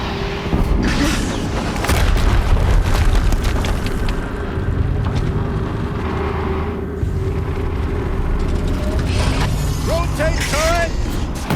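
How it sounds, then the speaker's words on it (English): Explosions in Horizon Zero Dawn gameplay: dense, loud rumbling booms and mechanical clatter roll on continuously, with a few high whistling tones near the end. "Another explosion."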